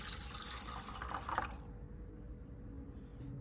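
Water with minced ginger poured into a pot, a steady liquid splash and rush that stays loud for a moment, then eases into a softer trickle, with no talking.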